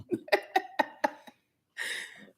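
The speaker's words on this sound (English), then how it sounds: "I keep burping." A belch-like burst after a big breakfast comes as a series of short throaty bursts in the first second and a half, then one longer rough, breathy eruption near the end, all close by with no talking.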